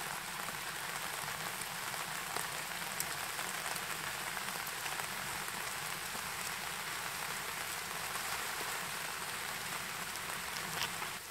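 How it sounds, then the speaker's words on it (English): Steady rain falls at dawn on an outdoor camp with a canvas tarp, a constant hiss of drops with occasional louder patters, even and unbroken, with no talking. "And there's the rain"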